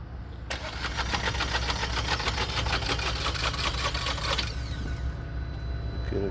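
Car engine cranking repeatedly without catching, a rapid rhythmic starter chug running steadily for about four seconds and then stopping, close and loud against background noise.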